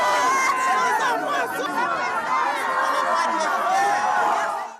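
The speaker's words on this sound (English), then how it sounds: "Residents shouted and booed, accusing the government of failing to respond promptly to the crisis." An angry crowd of residents in Pamandzi shouts, boos and chatters continuously, many overlapping voices close by and loud throughout.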